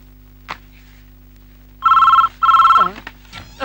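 A telephone bell rings in two close, loud bursts in an office scene from a Kannada film, followed by brief faint voice-like sounds and a low steady hum.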